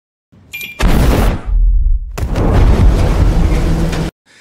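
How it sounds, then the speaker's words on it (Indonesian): Two loud explosive booms burst in quick succession as a bomb explodes on a small boat in a harbor, the second a longer rumbling blast that rolls on for about two seconds before cutting off. "Dalton meledakkan bom yang sudah dirakitnya di kapal kecilnya yang berada di pelabuhan."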